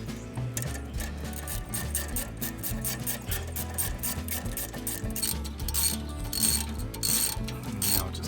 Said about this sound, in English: we're just going to ratchet that closed.